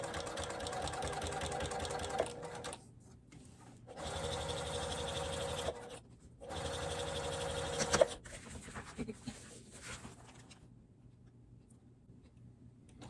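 Sewing machine with a walking foot stitching marine vinyl for a makeup bag, close bursts of rapid whirring stitching separated by short quiet pauses, then softer handling clicks as it stops.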